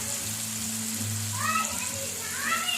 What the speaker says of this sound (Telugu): వేయించిన నూనెలో కొంచెం నూనె వేసుకొని మొత్తం ఉల్లిపాయ రెండు ఆనియన్స్ పోసానండి.